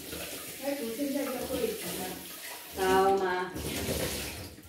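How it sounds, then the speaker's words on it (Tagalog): Pork is washed under a running kitchen tap, water splashing steadily into a sink for a soup dish, briefly surging louder midway while someone speaks over it. "Ayan, hugasan na natin yung pork."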